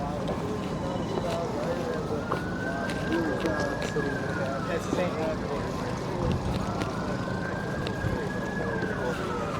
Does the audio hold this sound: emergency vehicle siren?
yes